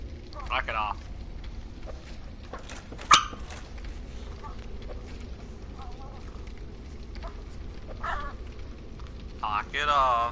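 A dog barks indoors in a few sharp bursts at the start, in the middle and at the end, and a person talks over the background noise.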